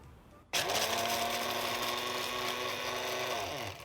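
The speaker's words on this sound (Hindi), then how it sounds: "इसके अंदर हम डालेंगे थोड़ा सा लहसुन और इसको एक बार हम ड्राई ग्राइंड करेंगे।" A mixer grinder dry grinds pine nuts and garlic for pesto, starting abruptly and running as a loud, steady, high whirring buzz for about three seconds before winding down.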